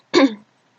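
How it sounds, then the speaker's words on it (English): A single short, forceful cough, close and clear, lasting under half a second, followed by silence. "sorry about my cough, by the way."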